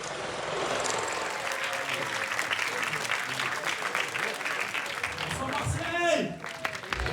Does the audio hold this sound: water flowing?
no